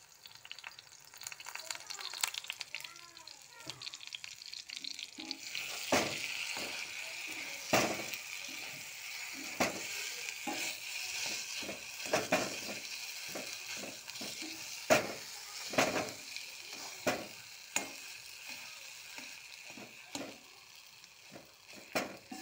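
Pointed gourd (parwal) frying in hot oil gives a steady close sizzle, broken by frequent clinks and scrapes of stirring in the pan, with no voices.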